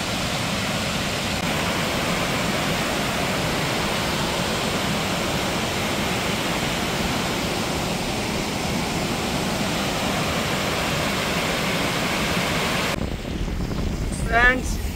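A large waterfall in a forest near Kodaikanal roars as a steady, broadband rush of falling water, constant and close with no pauses, and a brief rustle near the end.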